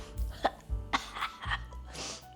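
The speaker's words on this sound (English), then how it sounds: "Obligatory sniff test." Several short, quiet, breathy sniffs and snorts come close to the microphone at irregular intervals as someone smells a spice-shaken sheet pan dish. They sound almost like small coughs.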